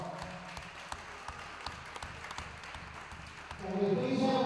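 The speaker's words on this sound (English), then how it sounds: "we please have another round of applause for Winton Senior 2018" Audience applause at a high school wrestling meet honoring seniors; steady clapping under an announcer's voice, swelling louder near the end.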